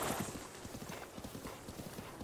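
Horse hooves clip-clop in a steady, quick rhythm as a horse trots in the Breath of the Wild video game, the beats clear and continuous over a dense game soundscape.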